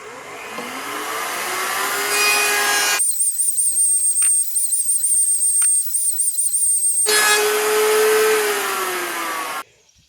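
A power saw run against a rip fence cuts a bevel along the wood edges. A loud, close whine and rough cutting noise comes first, then a few seconds of high motor whine with no cut, then cutting resumes before the tool stops abruptly.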